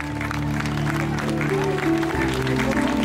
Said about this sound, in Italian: L'applauso ve lo chiedo forte, il più bello della serata, fatelo ora.